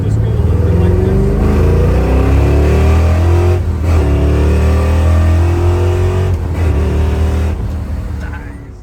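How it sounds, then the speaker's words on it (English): A 1967 Camaro revs hard and accelerates, its engine note climbing and dropping through several gear shifts, loud and close, with a steady low rumble underneath. "Garrett's dad, Dean, was pretty good at shifting through the gears on the Camaro"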